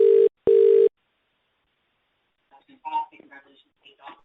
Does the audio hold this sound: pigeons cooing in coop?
no